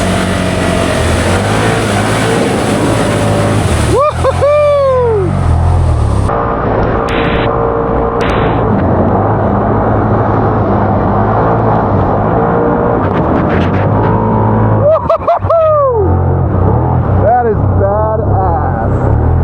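Can-Am Outlander XMR 850 ATV on 30-inch Aztex XX tires churning through mud in high range, a steady loud engine drone with two sharp revving sweeps, no talk audible.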